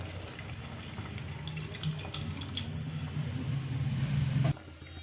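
Tamarind and tomato juice is poured into a simmering okra curry (bendakaya pulusu), a steady close liquid rush that swells and then cuts off abruptly.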